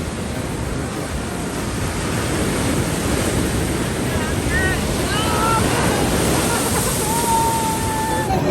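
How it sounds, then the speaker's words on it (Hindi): Loud, roaring ocean surf crashes continuously near the shore, with heavy wind buffeting the microphone and a few faint tonal cries rising above the broadband rumble. "लेकिन अभी जो उफान है, इसका आवाज़ भी बहुत भयावह लग रहा है"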